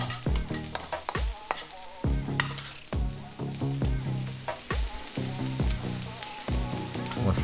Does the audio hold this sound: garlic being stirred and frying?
yes